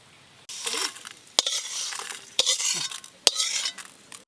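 Lightly fried whole spices scraped and poured from a pan, several bursts of dry rattling and stirring separated by sharp metallic knocks, close and moderately loud with quiet gaps, no voices.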